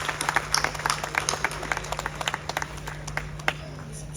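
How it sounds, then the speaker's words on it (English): An audience at a literature festival gives a round of applause, a steady patter of many hands clapping, fairly faint and distant over a constant low hum, with a voice briefly audible. "The big round of applause."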